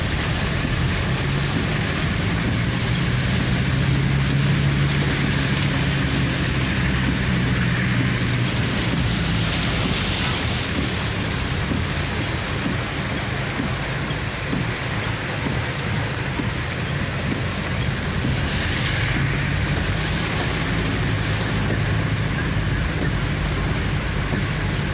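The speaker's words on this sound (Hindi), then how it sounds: "तकरीबन 12 मिनटा जी बारिश आई है तो काफ़ी सोहनी बारिश आई है।" Heavy rain falling during a dangerous road flood in Dadyal, Azad Kashmir, a loud continuous hiss and roar of rain on surfaces that runs unbroken for the whole stretch, with no voices.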